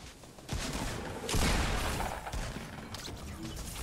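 Bursts of gunfire in Fortnite crack out in rapid clusters, with a heavy impact-like blast in the middle and further scattered shots trailing off, fairly faint overall.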